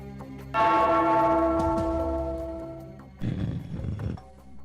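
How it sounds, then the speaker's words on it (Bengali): A large bell in an animated comedy scene is struck once and rings with a bright, sustained tone that slowly decays, followed by a short, rough rumbling burst. "ওই ঘন্টাটা বাজাও, বাজাও।"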